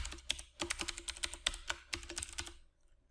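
Rapid bursts of keystrokes on a computer keyboard, clicking in quick uneven runs with short pauses, close and fairly quiet, stopping near the end.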